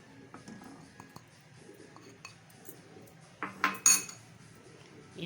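A spoon scrapes and clinks against a pot while semolina cooks in milk for suji phirni, with a few soft stirs and then a louder burst of metallic scraping near the end, no voices.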